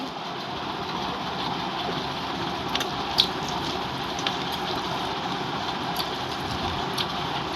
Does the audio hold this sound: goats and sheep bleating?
no